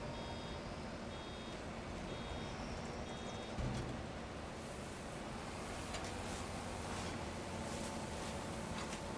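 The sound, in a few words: truck reversing beeps in a farming video game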